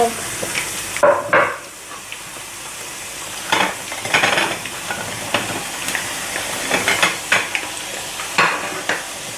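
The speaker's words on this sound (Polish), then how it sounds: "Następną partię wrzucam, niech się frytki smażą." Homemade potato fries frying in hot oil, a steady bubbling sizzle with bursts of louder crackling and hissing as the batch is stirred, close and without talk.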